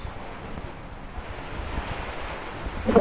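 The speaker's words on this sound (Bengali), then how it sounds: "অনেক ঠান্ডা বাতাস" Cold wind rushes through an open house window on a rainy day, a steady broadband blowing that swells louder toward the end, with no voices.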